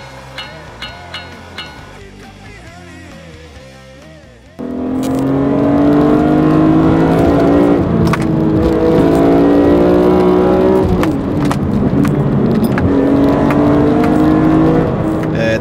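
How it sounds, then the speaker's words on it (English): A BMW M3 CSL fitted with an AC Schnitzer exhaust revs hard after a few quieter idle blips, its engine note climbing and holding loud and close for several seconds. "The AC Schnitzer exhaust, which gives the great sound."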